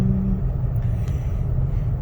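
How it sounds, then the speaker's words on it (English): Car driving through a snow blizzard in Canada, a steady close low rumble of engine and tyres on snowy road without talk. "It's snowing, it's snowing, it's snowing, and we are driving."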